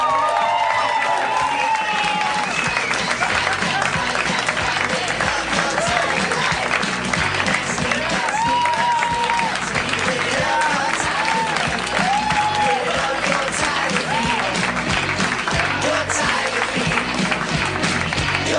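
A live comedy podcast audience applauds and cheers steadily for Dan Harmon, a dense, loud wash of clapping and crowd noise that holds without a break.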